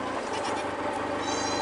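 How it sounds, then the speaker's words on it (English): Baby goats bleating continuously in a wavering, nasal chorus, close and fairly loud, with no clear pauses. "What are you guys doing, you silly goats?"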